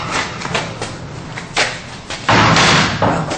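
A door swings shut with a solid thump near the end, following muffled movement and rustling; close and fairly loud.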